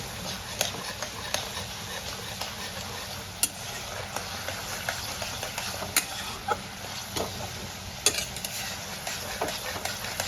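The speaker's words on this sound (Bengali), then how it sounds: "কষাতে থাকবো এখন মশলা থেকে তেল ছাড়তে শুরু করেছে" Spice masala with Kashmiri red chilli powder stir-fried in oil for a prawn curry: steady close sizzling hiss under repeated scraping and clinking of a spatula against the pan, with sharper knocks scattered throughout.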